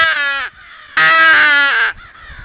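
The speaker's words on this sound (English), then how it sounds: "I've called all these crows to the house." Two loud, harsh caws ring out close by, each about half a second long with a pause between, from crows drawn in by a Primos Power Crow call.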